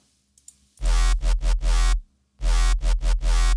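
A heavy Serum bass synth in a patch with its bend plus setting on plays two phrases of four loud, thick, buzzing notes each, separated by a short gap, upfront and alone.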